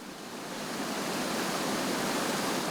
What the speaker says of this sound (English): raging floodwaters